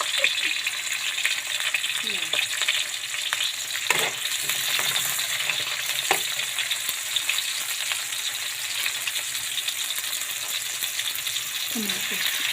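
Dulong and tukwa fish frying in oil in a pan, a constant soft sizzle with occasional utensil clinks and stirring, and brief speech in the background.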